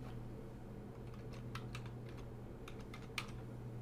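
Steady typing on a computer keyboard, a run of quiet, irregular key clicks over a low constant hum, with one sharper keystroke near the end.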